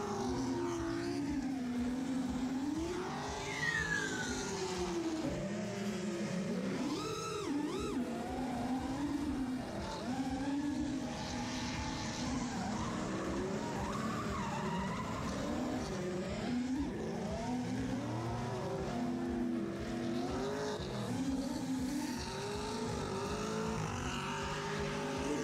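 Cars in the GTA video game drive with continuous engine roar and revving, with tires squealing at moments throughout, loud and steady with no talking.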